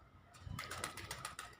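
Soft pigeon coos with a few wing flutters, quiet and fairly close, in short repeated bursts.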